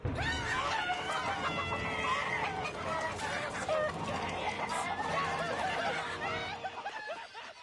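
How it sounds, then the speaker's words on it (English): Chickens cluck and squawk busily in Lego Marvel Super Heroes 2, a dense, continuous jumble of bird calls over a low background. "Chickens."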